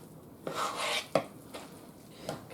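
Cornbread batter being mixed in a bowl, with a few close, brisk scraping strokes and soft knocks of the utensil against the bowl, separated by short pauses, with no speech.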